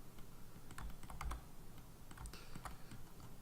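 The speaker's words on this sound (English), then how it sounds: "occasionally when you hear typing and don't see it in the screen" Quick, irregular keystrokes on a computer keyboard during computer work, close and fairly quiet, with short bursts of clicks and brief pauses and no talking.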